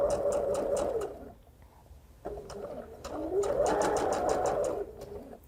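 Sewing machine running a rolled hem with a seashell hem foot, raw fabric edge folding under as it feeds: two close, steady bursts of rapid stitching separated by a short pause, with no talk.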